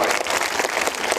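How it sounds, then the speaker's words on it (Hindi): A crowd at a political rally in Siwan, Bihar breaks into dense, sustained clapping, a brief burst of applause filling the space. "इधर जोरदार ताली बजा के स्वागत करो भाई"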